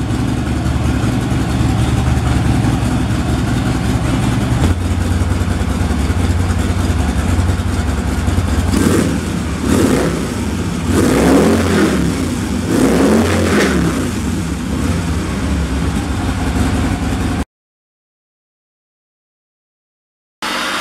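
A Harley-Davidson motorcycle with its old exhausts runs loud and close, a deep idle rumble broken by several quick throttle blips that rise and fall before the sound cuts off.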